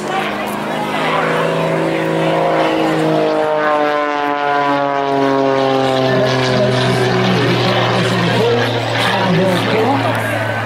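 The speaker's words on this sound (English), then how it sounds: "the things to look out for this aircraft is it's amazing tumbling manoeuvre" Propeller aerobatic aircraft tumbling through a succession of flick rolls at an air show by the seaside, engine drone with a strong harmonic whine shifting in pitch, loud and continuous, with commentary running over it.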